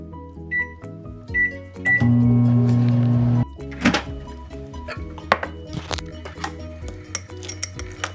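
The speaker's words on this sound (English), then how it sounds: "you're going to put them in the microwave, stirring every 30 seconds" A microwave oven in a home kitchen runs with a steady electric hum for about a second and a half, followed by its door clunking open and clattering handling sounds of a bowl and utensils as ingredients are melted.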